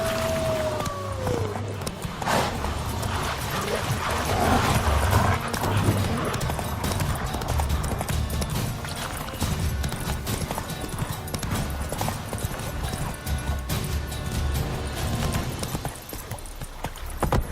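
Horse hooves gallop in a steady clip-clop rhythm in The Witcher 3: Wild Hunt, loud and continuous over a busy game soundscape with a brief whinny near the start.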